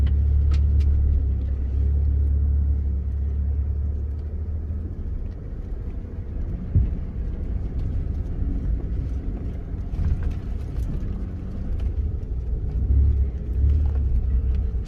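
A stock Ford F-150 pickup creeping slowly over rough off-road terrain, its low engine rumble steady and close throughout, with occasional knocks and rattles from the truck.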